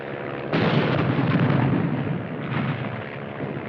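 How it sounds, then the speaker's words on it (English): Artillery fire and explosions in a war movie set among Japanese-American infantry in World War II, a heavy continuous rumbling barrage that erupts suddenly and stays loud throughout with overlapping booms and no voices. "Piper Cup's calling the shots for artillery."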